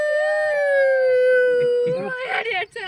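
People imitate dogs howling at a car campsite, voices holding a long, wavering howl that breaks into shorter yelps and laughter-like calls near the end, close and loud.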